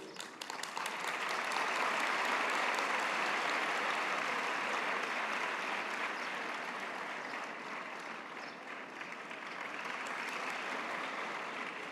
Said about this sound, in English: A big round of applause to this incredible team